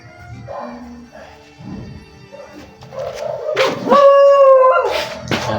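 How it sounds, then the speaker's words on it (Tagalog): Close-up, dogs howl with long rising wails mixed with short yips and whimpers, growing louder toward the end. "May mga aso ba?"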